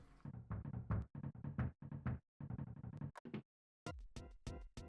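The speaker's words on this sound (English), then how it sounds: "Someone's knocking at the door." Knocking at a door in the Earthbound video game: quick bursts of rapid knocks in several clusters separated by short pauses, ending with a few sharper, more widely spaced raps.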